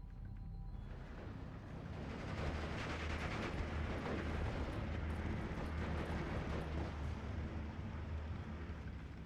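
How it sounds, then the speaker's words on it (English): A massive rocket artillery barrage in a World War I strategy video game, a dense, continuous roar of distant explosions and rumble swelling up after the first second and sustained throughout, fairly faint overall. "The massive rocket artillery is coming in, and that is in fact a concentrated fire"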